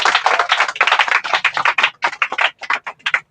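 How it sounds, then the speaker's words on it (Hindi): An audience claps in welcome at a results event, dense steady applause from many hands that comes in close, loud bursts with a few brief dips before trailing off near the end. "चलिए ताली मार के स्वागत करेंगे।"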